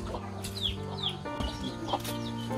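A chicken clucks a few times in a rural yard beside a house at risk of landslide, short calls over steady background noise.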